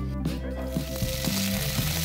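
Cherry tomatoes dressed with olive oil, salt and pepper sizzle steadily in a very hot pan, a close, constant frying hiss with faint clinks.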